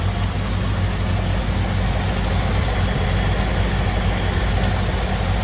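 The engine of a 1975 Ford E100 van idles in a steady, even rumble, loud and close, continuous throughout with no talking.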